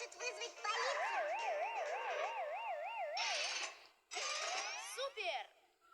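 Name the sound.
alarm siren howling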